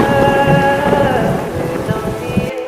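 Rain pours down steadily in a dense, close patter with a low rumble of thunder underneath, then cuts off abruptly at the end.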